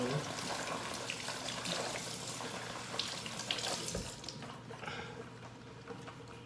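Tap water runs steadily into a kitchen sink as peeled onions are rinsed for a seafood salad, a continuous close splashing flow that thins slightly toward the end.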